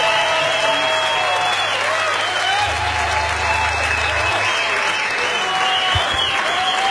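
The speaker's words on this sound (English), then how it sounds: "Another round of applause" Loud, dense audience applause and crowd noise fill the space after a concert performance, steady and continuous throughout with a low hum underneath.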